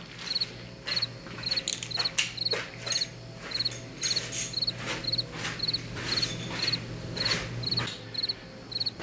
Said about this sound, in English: So all you hear is crickets.